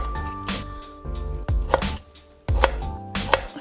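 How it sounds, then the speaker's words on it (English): A knife chops fresh ginger on a cutting board for a homemade curry, making a few sharp, close thuds with uneven gaps and faint kitchen sounds in between. "slice it and dice it."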